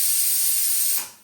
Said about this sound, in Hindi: ये ऐसे करते वो कुकर की सीटी बजी